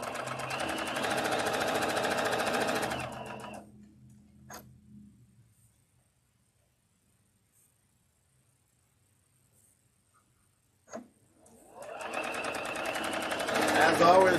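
A sewing machine stitches a quilt in quick, loud, rapid mechanical bursts at the start and again at the end, with a long quiet gap between them and a single sharp click in the pause.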